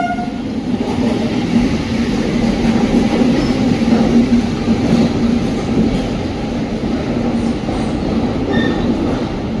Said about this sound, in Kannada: ಪ್ಲಾಟ್ಫಾರ್ಮ್ ನಂಬರ್ 2ಗೆ ಈಗ ಎಂಟ್ರ್ ಆಗ್ತಿದೆ ಚೆನ್ನೈ ಅಶೋಕಪುರಂ ಕಾವೇರಿ ಎಕ್ಸ್ಪ್ರೆಸ್